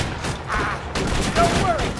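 A sentry gun turret in the video game Borderlands 2 fires bursts of rapid shots close by, breaking off briefly and then starting again amid other combat noise.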